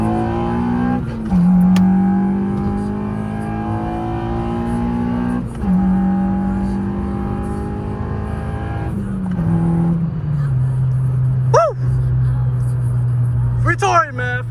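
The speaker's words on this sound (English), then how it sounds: "This pull right here, we're gonna do a little 40 second gear pull just for Tory." A 9th-generation Honda Civic Si makes a hard in-gear pull from inside the car, its engine note climbing steadily through several upshifts, loud and droning, with short dips at each gear change.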